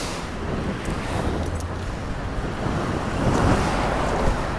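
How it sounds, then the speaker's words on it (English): Strong wind gusting by the ocean in Japan, a steady loud roar buffeting the microphone alongside surf, building slightly toward the end with no talking. "Wind is pretty strong."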